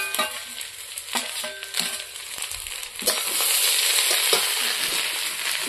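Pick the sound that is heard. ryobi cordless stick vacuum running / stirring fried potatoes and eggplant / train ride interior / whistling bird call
stirring fried potatoes and eggplant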